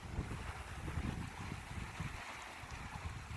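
Steady wind buffeting the microphone at a lake shore, a continuous low rumble with gusty surges and a faint wash like small waves, no voices.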